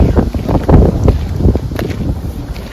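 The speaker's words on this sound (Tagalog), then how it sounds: "Malamig ang hangin" Cold wind gusts in a garden in Germany buffet the microphone in a steady low rumble that swells and dips, with no speech.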